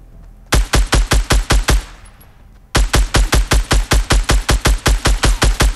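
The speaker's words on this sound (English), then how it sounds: "I'm being shot at from the right." Rapid bursts of automatic gunfire in the Fortnite Battle Royale video game, two loud sustained volleys of evenly spaced shots separated by a short pause.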